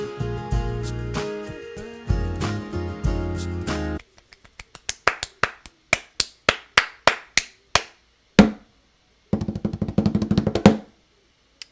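In a music production beat, crisp sharp clap and snap-like hits repeat in quick, evenly spaced rhythmic bursts, with a tonal musical bed underneath at the start and dry isolated hits later.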